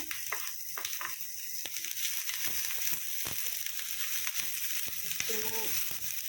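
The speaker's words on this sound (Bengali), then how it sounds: "এর মধ্যে আমি আগে রসুনটা দিয়ে দেবো" Garlic frying in a pan for a fig (dumur) stir-fry, giving a steady close sizzle with scattered crackles and a few stirring knocks, heard alone throughout.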